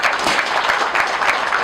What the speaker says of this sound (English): Kindly clap for them.